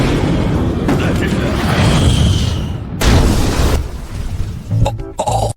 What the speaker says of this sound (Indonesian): Ujung-ujungnya Mizet menyuruh Laurot untuk mencoba senjata meriamnya.